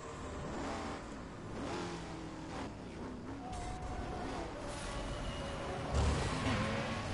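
Cars race in Burnout Paradise Remastered on an eastbound run to the Coast Guard HQ. Engines roar and rev continuously, with whooshing passes and a heavier thump near the end.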